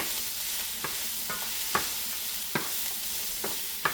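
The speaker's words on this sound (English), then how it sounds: "I wish you could smell the celery and the onions and the mushrooms cooking." Celery, onions and mushrooms fry for moose goulash, making a continuous soft sizzle with several sharp spoon clicks against the pot at irregular intervals.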